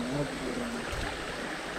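A small stream in the hills near Eratti waterfalls flows with a steady broadband rush and trickle. A faint voice can be heard briefly near the start.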